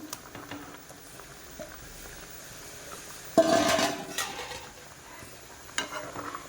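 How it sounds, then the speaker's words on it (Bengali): Fish pieces dropped into a simmering curry in a pot, a soft bubbling background that jumps into a sudden louder splash and sizzle, then settles with a few small clinks. "এবার এই মাছগুলো আমি দিয়ে দেবো"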